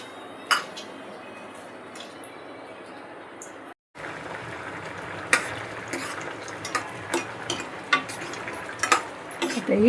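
A spoon stirs black-eyed peas curry with onion paste and salt in a pan, giving light scraping and clinking against the metal over a soft background sizzle, with a few sharper taps toward the end.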